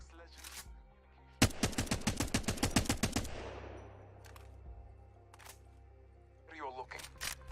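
Rapid string of about a dozen gunshots from a weapon in the video game Apex Legends, evenly spaced and punchy, with a few isolated shots afterwards.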